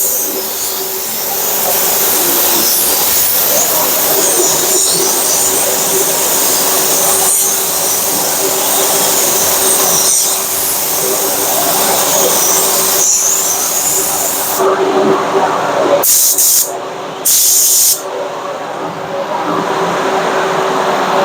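Spray gun laying another coat of paint onto a three-stage paint job, a loud steady hiss of compressed air running continuously close up, cutting out briefly in short gaps near the end.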